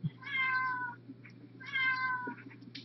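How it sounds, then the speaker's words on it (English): A phone ringtone that plays a recorded cat meow, two clear tonal meows about a second apart, faint and with a low steady hum beneath. "that's Jackie's phone"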